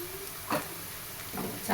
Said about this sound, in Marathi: चांगला कांदा असा हलवून घ्यायचा ब्राऊन कलर होईपर्यंत कांदा मस्त तळला